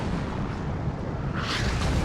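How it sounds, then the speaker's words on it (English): Explosions in the video game WARNO rumble as a dense, loud, continuous roar of artillery-like booms, with a brighter burst swelling near the end. "The explosions are really well done too."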